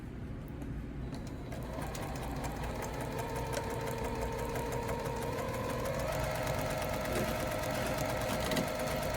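Sewing machine stitching steadily around the edge of a repurposed pillow at a 5/8 inch seam allowance, a continuous close mechanical whir with rapid needle ticking that holds throughout.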